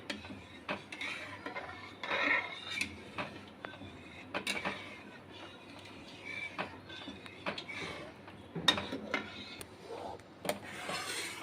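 Egg halwa made with duck and chicken eggs, bay leaves and cardamom is stirred continuously in a pot, giving faint, irregular scrapes and light clicks of the spoon against the pan.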